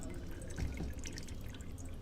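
Water drips slowly through a funnel holding a five-metal mesh plate and strong magnets into a pot, giving faint, scattered drips and trickles over a soft background.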